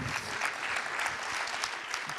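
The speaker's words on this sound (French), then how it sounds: "Merci d'applaudir et de faire un tonnerre d'applaudissements" An audience at the close of a neuroscience event gives a steady, dense round of applause, continuous and fairly near, with no break.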